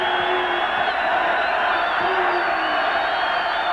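A partisan basketball crowd at a Washington Huskies home game against Duke, a dense, loud roar of cheering and whoops that holds steady from start to end, close and filling the space.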